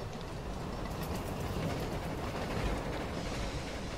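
A train in Battlefield 1 rumbles along steadily with a rhythmic clatter of wheels over rails, a continuous close roar with no voices.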